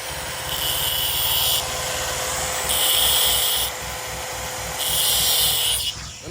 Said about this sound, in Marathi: ओके मध्ये ग्राइंडर चालू झाला आता तो त्याला वरवर धार काढून घेऊ राहिला